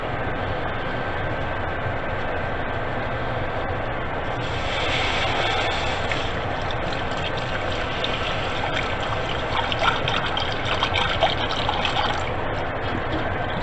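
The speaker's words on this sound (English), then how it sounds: "So then I'm going to start adding my milk and whisking" Milk being poured into gravy in a pan over medium heat and whisked, a steady wet trickling and stirring that swells a little midway, faint and continuous with no talking.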